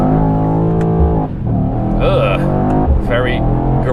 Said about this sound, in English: Very gross rev limiter there.